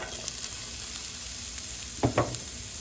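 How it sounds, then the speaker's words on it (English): Onions and peppers sauté in hot oil for Caribbean-style fried cabbage, a steady close sizzle broken by two quick utensil scrapes near the end. "making sure that all the onions and peppers are sauteed properly"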